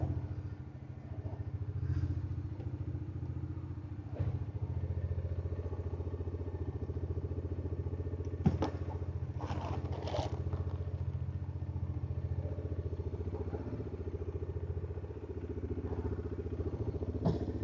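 A motorcycle engine idles steadily while warming up, a low continuous rumble with occasional clatter and a few thumps, heard nearby at moderate level.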